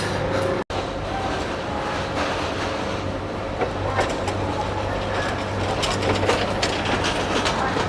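A long passenger train stands at or moves past a railway platform, with a steady close rumble, faint clickety-clack of carriages and a sharp cut near the start, and no voices.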